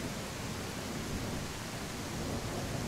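Rain in the video game Tribe: Primitive Builder makes a dense, constant hiss, loud and even throughout, with no talking.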